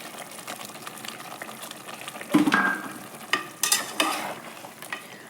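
Goat head and paya mutton stirred in a hot pan, a steady close sizzle with scraping spoon strokes and wet clatters, louder in bursts toward the end, no voices.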